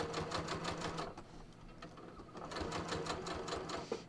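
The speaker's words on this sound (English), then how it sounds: "I'm just stitching along my stitching line that I marked" A sewing machine runs basting stitches along a marked stitching line on a muslin fitting garment, its needle clattering in a steady rapid rhythm close by, slowing briefly before resuming.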